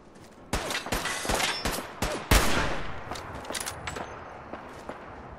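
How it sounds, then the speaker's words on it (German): Gunfire in the video game Fallout 4 crackles in a scattered series of sharp shots, one louder burst in the middle, then quieter reports trailing off as the exchange fades into the distance. "Ich find's cool, dass man auf jeden Fall noch Schüsse hört vom Weiten."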